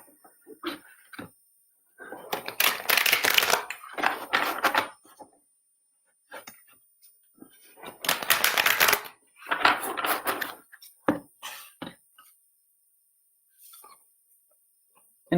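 Oracle cards being shuffled and pulled, heard as bursts of soft riffling and flicking, two longer shuffles and scattered light taps and slides, close and quiet, with no talking.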